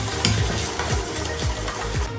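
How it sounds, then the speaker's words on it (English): Spoon stirring a spiced tofu omelette batter of turmeric, black pepper, cumin, oil and water, giving repeated rhythmic scraping strokes in a bowl, close and steady, with no talk. "And we mix it."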